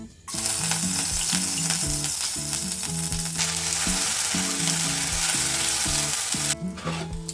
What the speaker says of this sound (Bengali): এবার এতে দেব আদা পেঁয়াজ বাটা।